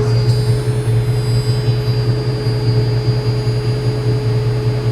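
Ford Foxbody car cooling fan running at 70% capacity, a steady close hum with a constant low drone and a faint whine, unchanging throughout, no talk.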